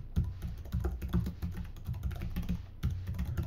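Rapid typing on a computer keyboard, steady clusters of close, crisp key clicks continuing for several seconds with a brief pause near the end, no talking over it.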